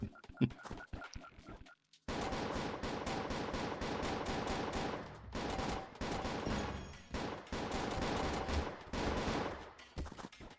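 Rapid video game gunfire rings out on an island map, dense bursts of automatic shots packed close together and loud, with brief gaps, after a few scattered sharper shots at the start.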